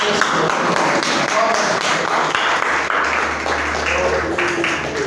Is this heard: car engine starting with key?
no